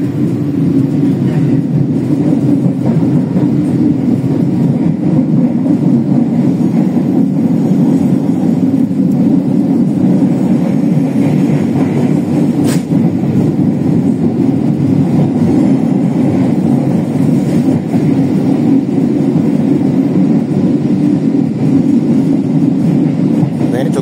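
Steady, loud rumble of a moving Indonesian passenger train heard from inside a carriage, continuous low roar throughout with no distinct wheel clicks.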